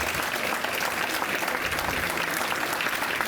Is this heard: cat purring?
no